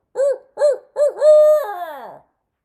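A voice imitates a barred owl call: three short rising-and-falling hoots followed by a longer drawn-out hoot that slides downward, loud and close with no other sound.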